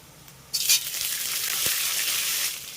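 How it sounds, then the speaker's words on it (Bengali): Chunks of a medium onion hit hot oil already frying chopped ginger and green chili, setting off a sudden loud sizzle that settles into a steady, close crackle. "আদা আর কাঁচা লঙ্কা কুচিটা যখন সুন্দরভাবে ভাজা হয়ে যাবে তখন আমি এর ভিতরে অ্যাড করব মিডিয়াম সাইজের একটি পেঁয়াজ"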